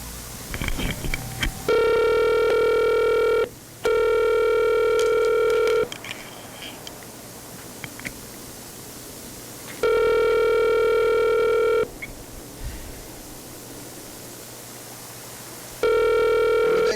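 A telephone rings over speakerphone in long repeated bursts, each ring lasting about two seconds and separated by pauses of several seconds, clear and fairly loud with no voices.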